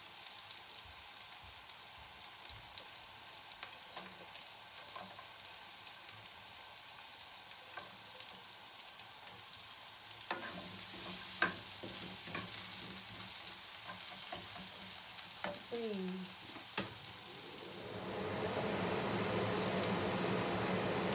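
Garlic and onion fry in a pan for chicken cooked in coconut milk, a steady close sizzle with scattered stirring scrapes and clinks that swells louder toward the end.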